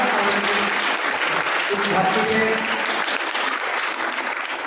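An audience at a memorial gathering claps in a dense, unbroken wave of applause while a voice speaks over it through a sound system, the clapping holding steady throughout.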